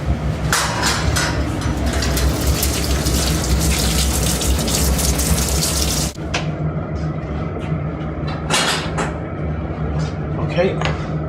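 Tap water runs steadily over a Christmas turkey being washed in a kitchen sink, a continuous splashing gush that cuts off partway, followed by sparse clatters and handling noises.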